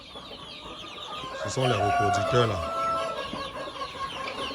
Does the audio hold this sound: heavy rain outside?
no